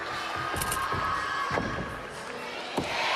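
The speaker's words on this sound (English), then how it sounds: "The home crowd absolutely love that." Home crowd at a women's European artistic gymnastics championship cheering a vault, a loud sustained roar of voices and applause punctuated by a few thumps and bangs.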